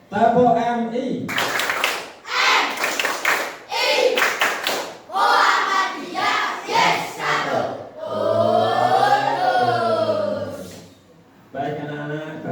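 Tepuk MI class clapping routine with a sixth-grade class, patterned claps interleaved with loud chanted voices and a sustained sung line, all close and lively.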